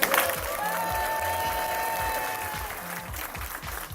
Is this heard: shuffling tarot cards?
no